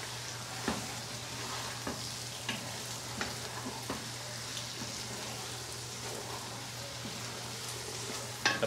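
Pirurutong rice fries in oil in a pan with a steady soft sizzle, broken by occasional light stirring clicks of a utensil, close and continuous with no talk.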